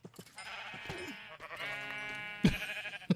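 Minecraft sheep bleat close by, with several wavering, nasal baas overlapping or following one another in a short burst and one louder bleat near the end, with no talking.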